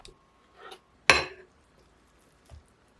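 A lid lands on a frying pan of broccoli and eggs with one sharp metallic clank and a brief ring, preceded by a soft scrape and followed by a faint knock, all close by in a quiet kitchen.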